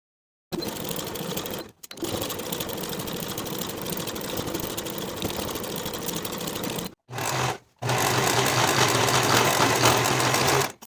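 A sewing machine stitches underarm and sleeve seams on a blouse in long continuous runs, a close steady motor hum broken by two brief pauses.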